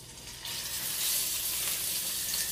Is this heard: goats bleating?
no